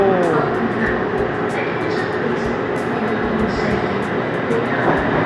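A Bangkok BTS Silom Line skytrain rumbles past continuously and loudly on its elevated track close by, a steady rolling roar with metallic squeals.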